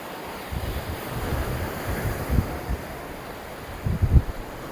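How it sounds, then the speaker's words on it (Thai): Ocean surf rolls in steadily with a broad wash of noise on a beach at Koh Larn, Thailand, as waves break nearby in two heavier surges over a windy background. "ได้ยินเสียงคลื่นไหม เสียงคลื่นคือแบบดังมาก"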